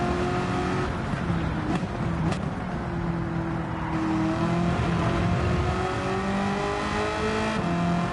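Steady close engine drone from a Gran Turismo 7 race car, revving up and easing off with smooth throttle shifts across several gears, loud and continuous with no voices.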